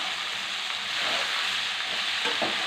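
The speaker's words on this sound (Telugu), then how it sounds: "మనం ఆకుకూర వేసుకున్నాము. తోటకూర అండి. తిప్పుకున్నాము." Amaranth leaves sizzle and fry in a pan while being stirred, a steady close hiss with soft scraping and no speech.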